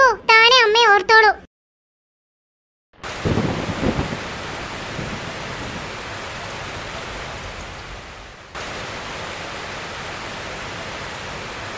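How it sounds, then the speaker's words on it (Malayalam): Heavy rain pours down as a dense, steady roar of noise that fills the scene after a short stretch of speech and a moment of silence. "എന്തൊരു മഴയാ ഇത്, എന്റെ ദൈവമേ"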